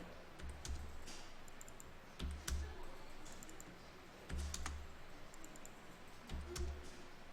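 Quiet clusters of computer keyboard keystrokes in short bursts while editing a spreadsheet, with soft clicks and pauses between groups, close and low in level.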